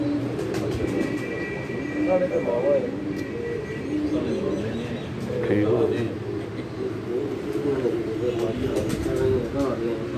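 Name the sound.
pigeon cooing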